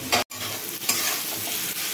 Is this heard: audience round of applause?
no